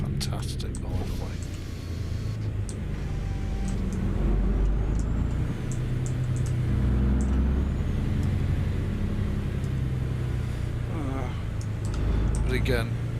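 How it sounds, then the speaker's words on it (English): A truck engine in American Truck Simulator rumbles in a steady, loud low drone that persists throughout, with a voice talking over it at times. "This truck sounds fantastic"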